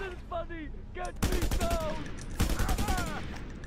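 Gunfire in the video game Just Cause 2, with bursts of rapid shots sounding in two clusters amid whistling game effects, fairly loud against the background.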